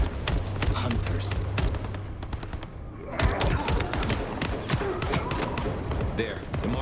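Gunfire in the video game Vampire the Masquerade Bloodlines 2, dense rapid shots and cracks running throughout at steady loudness, with game voices and background effects mixed in.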